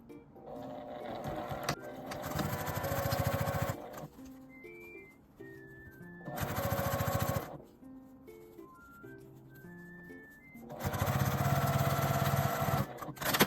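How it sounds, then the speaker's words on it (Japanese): A sewing machine runs in three bursts of rapid whirring edge stitches on a fabric pouch's outer and lining pieces, separated by pauses filled with soft background music. "横に引いて端ミシンをかけます。"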